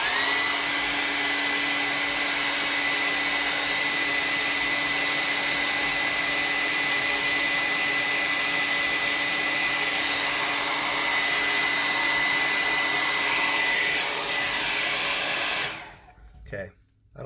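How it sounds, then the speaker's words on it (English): A hair dryer blows on a wet watercolor landscape painting, a loud steady whirring hum holding for about sixteen seconds before switching off abruptly, with no voices. "And then let's do a dry off."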